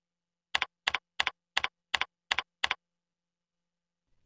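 Seven quick, evenly spaced key presses on a computer keyboard while entering a username, crisp and close in an otherwise silent room, followed by quiet.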